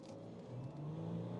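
A 2023 Ford Ranger Platinum's engine pulls hard from a brake-boosted launch, a steady rising drone heard from inside the cab, moderately quiet and continuous with no talk.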